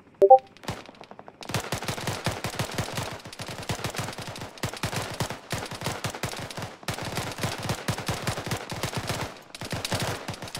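Sustained automatic rifle fire aimed at a jeep in ArmA, long rapid bursts of sharp close shots with short pauses between strings, loud and dominant after a brief quiet start.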